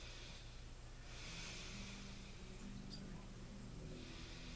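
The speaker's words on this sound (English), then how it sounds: "Deep breath." A patient drawing a deep breath during a chest examination: a soft, steady airy inhale that swells after the first second and lingers faintly, close and quiet with low background hum.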